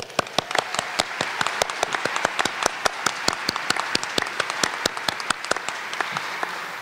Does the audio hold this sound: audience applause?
yes